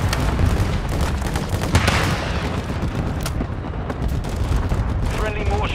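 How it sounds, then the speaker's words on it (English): Mortar strike explosions in Call of Duty Modern Warfare II, dense rumbling booms and blasts layered into a continuous loud barrage with scattered sharp cracks, and voices heard faintly. "Our mortar strike is inbound."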